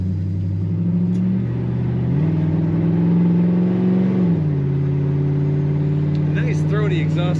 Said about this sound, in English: Throaty exhaust sound to this car.